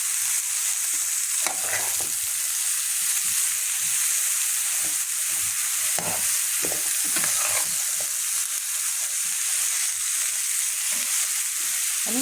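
Onions sautéing in a pan for a zucchini and meat tagine, with a steady loud sizzle throughout and repeated scrapes and clinks of a spoon stirring, no voices.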